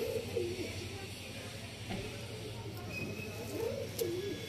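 A tournament-flown racing pigeon coos softly near the start and again near the end over a steady low hum, with faint voices in the background.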